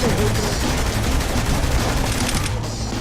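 Gunfire in the video game Saints Row The Third, a dense continuous burst of shots and rattling fire that fills the whole stretch at steady loudness.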